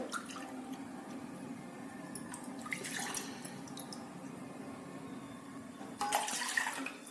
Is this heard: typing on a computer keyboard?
no